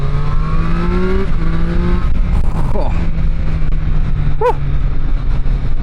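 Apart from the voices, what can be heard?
Triumph Street Triple 765 RS motorcycle engine accelerating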